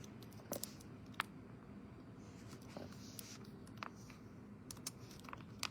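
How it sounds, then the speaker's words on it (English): Faint, irregular key clicks from a computer keyboard over a steady low background hum, with scattered taps and short pauses. "So you're going to start typing."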